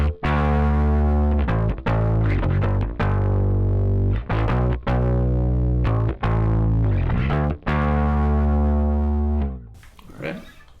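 Bass guitar played through a live rig with the edge pedal switched off: loud, sustained deep notes and chords with brief gaps, ending with a short burst of noise.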